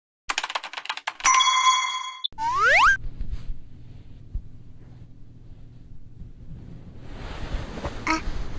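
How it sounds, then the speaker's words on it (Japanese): A doorbell chime sounds twice near the start, followed by a springy boing-like effect, then quiet room tone that builds into soft rustling. "ピンポン。"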